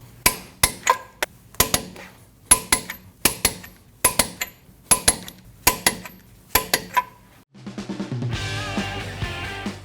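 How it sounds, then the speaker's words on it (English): Sharp metallic clicks and clanks ring out in a fast irregular series at close range while lug nuts are tightened on a Nissan NV2500 wheel, followed by a rougher sustained rattle at the end. "Now you want to torque down all your lug nuts to 131 foot-pounds."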